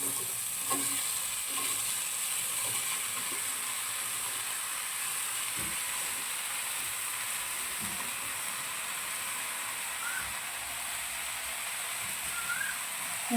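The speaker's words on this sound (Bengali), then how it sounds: "লাউটা নেড়ে ভালো করে মিশিয়ে নিয়েছি লাউটা মশলার সঙ্গে" Bottle gourd is stirred into fried spice masala for prawn curry. A constant soft sizzle runs throughout, with a few scraping stirs of a spatula mixing through the pan. No one speaks.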